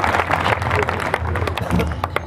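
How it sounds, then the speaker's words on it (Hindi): Audience clapping at a Hindi comedy poetry show, a dense spread of handclaps that carries through the whole stretch at steady strength, joined by crowd noise and talk. "तो एक बार ताली बजा दो उस योगेश्वर के लिए।"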